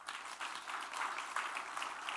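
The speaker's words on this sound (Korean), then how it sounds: "격려 박수 한번 쳐주세요." A church congregation at a New Year revival service gives a short burst of steady, moderately loud applause in encouragement, with no voices over it.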